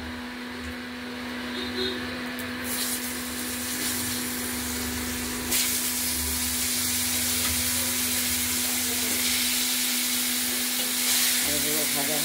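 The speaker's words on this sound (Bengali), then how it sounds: "আলুগুলো ভাজা হোক, তারপর শিমগুলো দেবো" Potato pieces frying in hot oil in a pan with black and white cumin seeds, a steady dense sizzle with occasional stirring scrapes, continuous and close with no talk.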